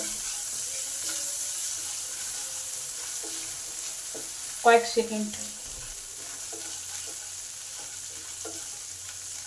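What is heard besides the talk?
green chili and black cumin frying in oil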